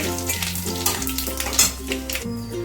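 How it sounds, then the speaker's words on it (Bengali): Panch phoron and dried red chillies sizzle and crackle in hot oil, a steady close frying hiss with faint stirring, no talking. "ফোড়নটা একটু ভালো করে ভেজে নেব"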